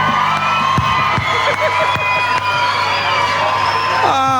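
A dense crowd at Cowboys Bar during the Tamworth Country Music Festival roars and cheers continuously, with whoops and shouts rising over a loud, steady wash of noise.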